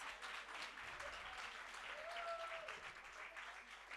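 Audience at a women in business empowerment conference applauds, a sustained crowd of hand claps heard at a moderate distance, with a brief tonal whistle or squeal partway through.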